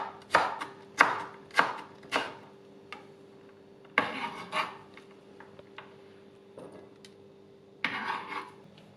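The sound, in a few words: chopping bell pepper into cubes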